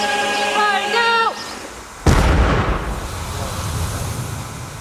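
Royal Marines weapon fired in Afghanistan: one sudden, loud, close blast that rolls into a long rumbling decay, following an earlier tonal electronic sweep.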